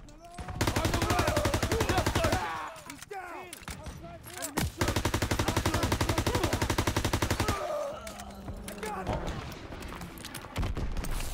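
Sustained automatic gunfire from a Call of Duty: WW2 campaign battle, two long loud rapid bursts separated by a pause, with scattered shots and battle noise between them and voices talking over the fight.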